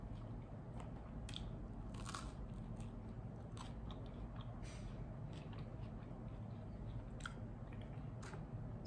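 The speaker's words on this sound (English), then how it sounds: "I might as well finish my cheese toast one." Someone chews and bites cheese toast close up, with crisp crunches and wet mastication repeating irregularly over a low steady background, no talking.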